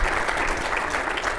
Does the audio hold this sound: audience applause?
yes